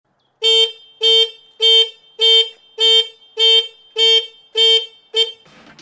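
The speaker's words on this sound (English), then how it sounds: "The alarm is activated at any movement of the motorcycle," An aftermarket smartphone-linked security alarm on a BMW K100 motorcycle that has been fitted with digital electrics. It sounds nine loud, evenly spaced electronic chirps, close and clear, then stops, leaving a faint rustle.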